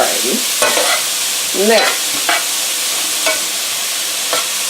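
Onions and tomatoes sautéing together in a pan give off a loud, steady hiss with a few soft stir scrapes, while someone speaks briefly over it.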